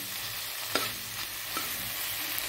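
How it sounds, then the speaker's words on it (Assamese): Dal fries in a pan with a little banana stem and an egg, sizzling steadily while a utensil scrapes through it in a few distinct stirs, with no talking. "দালিখন এনেকৈ ভাজি লৈছোঁ, কল পচলা অলপ আৰু কণী এটা দি।"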